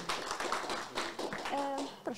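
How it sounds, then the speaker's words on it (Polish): At the HackYeah 2023 hackathon pitching session, an audience claps for a team taking the stage, producing a fairly quiet, uneven patter of hands with voices talking over it. "I brawa."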